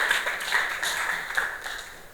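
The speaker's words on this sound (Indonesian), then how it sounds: "tepuk tangan" Students in a classroom give a short round of clapping, a light scattered patter of hands heard at moderate distance with a faint ringing tone behind it.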